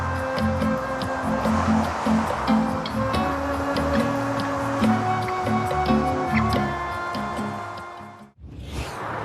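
Motorway traffic heard through Bose headphones with noise reduction switched on: a continuous muffled low rumble with soft passing swooshes and steady tonal hum, fairly even throughout, dropping briefly near the end.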